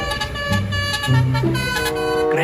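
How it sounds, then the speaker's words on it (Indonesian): A toy Telolet bus horn toots a quick run of bright, melodic musical notes, close and fairly loud, with no one speaking. "ternyata bus telolet"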